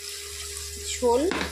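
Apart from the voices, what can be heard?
water poured into curry from rinsed mustard paste jar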